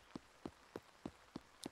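Rain dripping in the video game Spirittea in slow, steady drops, about one every third of a second, each a soft tap over a quiet hiss.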